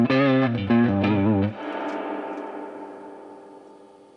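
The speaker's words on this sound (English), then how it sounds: "Still a bit too much reverb for me." An electric guitar through a 15-watt Fender Blues Junior tube amp plays a few sustained chords, then the last chord rings out with a long reverb tail fading away.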